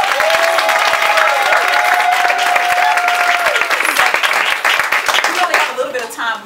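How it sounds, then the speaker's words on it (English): Audience applause fills the room after congratulations to a couple at a birthday finale event, a dense, loud wash of many hands clapping that thins out toward the end, with some cheering and voices mixed in. "Let's give them a round of applause."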